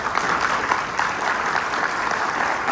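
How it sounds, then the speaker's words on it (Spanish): Audience applause at a panel discussion, steady dense clapping from a crowd throughout, fairly loud and continuous. "les pido un aplauso."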